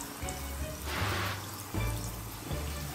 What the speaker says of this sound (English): Oh, it's bubbling.